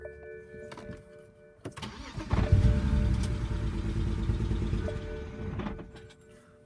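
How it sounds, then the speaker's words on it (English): A BMW 135i N54 E82 engine cranks over and catches, then runs with a steady rumbling idle at close range before the sound settles down. "Now we're gonna start the engine and let it run out of gas."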